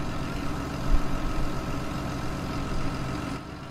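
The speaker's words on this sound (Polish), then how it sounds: "jeżeli silnik ma turbosprężarkę i wiadomo, troszeczkę więcej mocy, no to musi to gwizdać" A turbocharged Case tractor engine runs at a steady, even drone, with a low rumble and a faint high whine over it, close by and constant with no talking.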